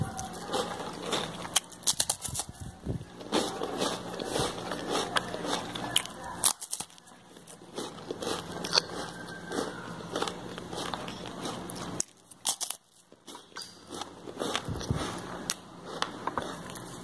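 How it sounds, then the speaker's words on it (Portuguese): Crunchy homemade seven-layer biscuits are bitten and chewed close to the microphone. Crisp, crackling crunches repeat irregularly over several seconds, with short pauses and faint background noise. "Agora chegou a hora de testar para ver se o nosso biscoitinho 7 capas ficou crocante."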